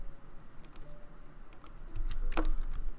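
Keyboard keys tapped while playing Minecraft, a scattered run of light clicks with a burst of quicker taps near the end, close and fairly quiet over low background hum.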